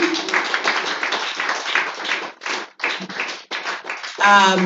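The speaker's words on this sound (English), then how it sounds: "Please, let's keep clapping for our mommy." An audience at a live-streamed Nigerian women's agricultural event claps in a dense, sustained patter that thins into scattered bursts, with voices talking over it near the end.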